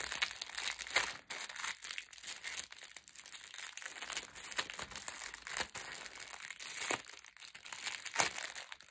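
A crinkly handmade giveaway package is handled up close, its plastic crackling and rustling steadily for several seconds with sharper crunches at intervals and no talking.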